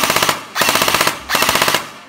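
LEHUI Victor SIG 552 gel blaster firing full auto in three rapid bursts, each a fast mechanical rattle of shots separated by brief pauses, loud and close.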